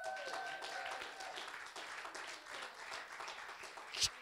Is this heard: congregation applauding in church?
yes